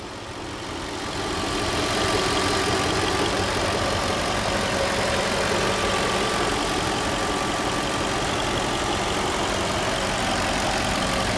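A 2004 Audi A8 L with a 4.2 liter V8 idles with a steady, deep rumble that swells in over the first seconds and then holds constant, close and fairly loud.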